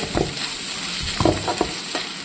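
Okra in a pan is stirred with turmeric and other spice powders, giving a steady sizzle broken by several soft scraping strokes of the spoon, close by and with no voices.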